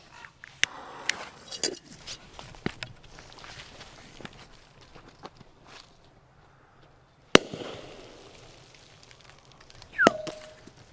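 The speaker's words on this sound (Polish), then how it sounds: "te petardki trochę się palą" Retro firecrackers go off in a small pot outdoors in winter, scattered sharp cracks and pops of varying loudness with crackling between them and a few louder bangs near the end, no talking.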